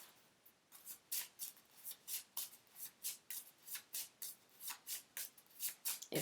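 Oracle cards riffle-shuffled in a steady run of about fifteen quick, crisp bursts, close and fairly quiet, with no talking.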